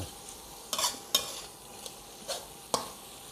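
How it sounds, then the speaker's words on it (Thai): Previously fried fish is stir-fried in a pan at a seaside fishing spot, with several sharp scraping strokes of a spatula over a soft background sizzle, close by and with no speech. "เอาปลาที่ทอดเมื่อกี้ครับ ลงไปผัดเลย นี่ ผัดให้มันเข้ากัน"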